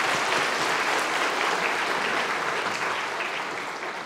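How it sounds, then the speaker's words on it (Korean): A church congregation claps together in sustained, enthusiastic applause after a children's praise song, gradually tapering off toward the end. "우리 다 같이 박수 드리겠습니다."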